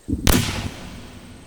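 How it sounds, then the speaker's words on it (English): A single loud, close gunshot-like bang with a low thump, followed by a long echoing decay. "Now I gotta explain to our mother what that gunfire's all about."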